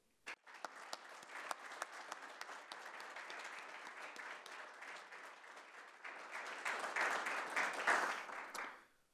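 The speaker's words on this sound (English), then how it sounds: "let's give the first of many rounds of applause this afternoon for Tiffany and Rachel and David" An audience at a university faculty lecture and awards event claps for honorees, the applause starting abruptly, holding steady, swelling louder near the end and then stopping, heard from a moderate distance.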